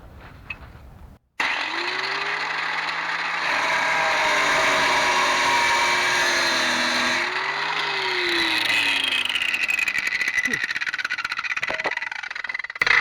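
A power cutting tool slices through a seized bolt on a Ford Explorer front sway bar, starting abruptly with a loud sustained whine that dips under load, then fades out with clicks and rattles.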